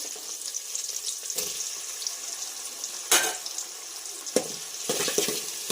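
Tomatoes frying in a pan for masala rice, a soft continuous sizzle broken by several sharp clatters of stirring, close and moderately quiet, no voices.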